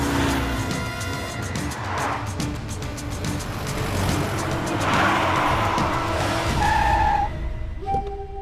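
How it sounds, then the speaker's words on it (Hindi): A car skids to a halt mid-road in a Hindi-dubbed South Indian action film, with a long tire squeal over engine noise and swelling background score, ending in a sharp stop. "बीच रास्ते में गाड़ी क्यों रोक दी तूने?"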